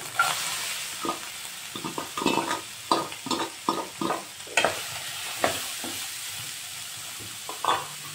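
Onions frying in a pan for chole masala curry, with a steady soft sizzle broken by repeated scraping and stirring strokes from a utensil, close and fairly quiet, no talk.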